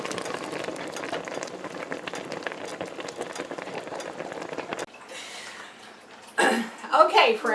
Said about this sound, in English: the heat has been turned down and they are now simmering